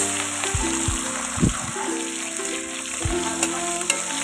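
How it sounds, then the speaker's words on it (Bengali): Prawns fry in hot oil tempered with black cumin, a steady close sizzle with bubbling crackle and a few sharp spatters and scrapes through the stretch. "তেলের ভিতরে কালো জিরা ফোড়ন দিয়ে তারপর চিংড়ি মাছটা একটু হালকা করে ভেজে নেব"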